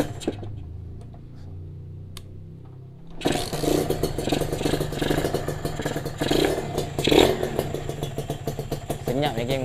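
A freshly overhauled Kawasaki RR motorcycle engine is cranked over quietly, then fires up at about three seconds into a steady, close, clattering idle that continues loud to the end.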